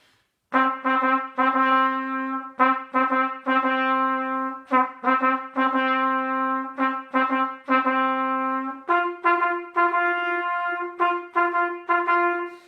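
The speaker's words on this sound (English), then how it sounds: "So you're just playing that same rhythm on each of the notes as we go along." A piano plays a bouncy boogie woogie figure in the bass, the same repeated rhythmic pattern moving from note to note, clear and solo.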